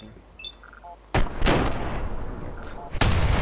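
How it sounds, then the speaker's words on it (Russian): Gunfire in Fallout 4 during a Brotherhood of Steel lost-patrol mission: two sharp, loud shots about two seconds apart, each followed by a booming tail, after a quieter stretch of game ambience and small electronic tones. "Легендарный, давайте в голову выстрелим."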